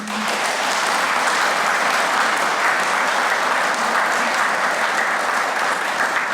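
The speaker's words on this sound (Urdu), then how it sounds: "برائے مہربانی آپ تالیاں بجائیں" Audience at a political speech in Peshawar claps steadily, a dense, loud wash of applause lasting throughout without pause.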